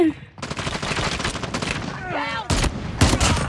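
Rapid automatic gunfire in a shooter video game, loud bursts of close shots after a brief quiet start, broken by short pauses, with a voice speaking in between.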